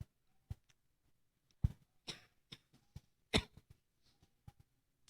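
A pastor coughs during a church sermon, a string of sharp, fairly close coughs and throat-clearing bursts scattered over several seconds, with short quiet gaps between them.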